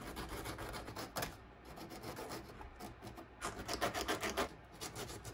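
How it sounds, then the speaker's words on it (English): Close, steady rasping and rubbing of sandpaper on model railway rails, removing burrs, in uneven back-and-forth strokes. "We can just keep sanding it."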